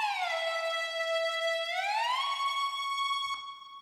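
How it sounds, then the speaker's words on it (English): A synth lead for an Avicii 'Levels' remake, sent through a room-style reverb, holds a bright buzzy note, slides up to a higher pitch and sustains loud and alone to the end. "The most important here is probably the reverb effect."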